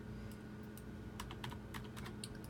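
Fingers tap out a quick run of keystrokes on a computer keyboard while entering a consignor number, soft clustered clicks at close range over a low steady room hum, no talking.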